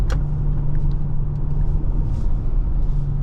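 A 2025 Ford Explorer ST drives on the road. Its engine and tyres make a steady, loud low rumble throughout, with no talk.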